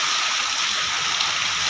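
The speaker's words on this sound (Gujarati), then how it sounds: "ઓહો એ વાવાઝોડા હારે વરસાદ છે હો" Heavy rain pours down in a strong windstorm, a dense, steady hiss of falling water with no breaks, loud and close, with no voices.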